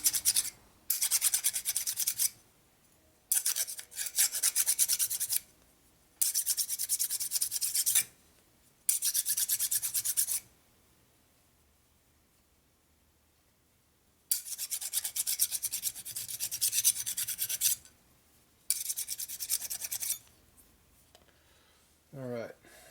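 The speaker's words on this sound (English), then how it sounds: "file the burrs off that they put on taking it out" A hand file scrapes burrs off a 1986 Harley-Davidson 883 Sportster Evolution flywheel in repeated bursts of close, harsh rasping strokes. Short quiet gaps separate the strokes, and a faint metallic squeak comes at the end.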